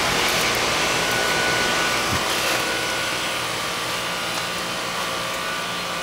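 An outdoor heat pump unit, a little weather-beaten, runs with a steady, broadband whooshing fan hum that stays even and fairly loud throughout, with no talk.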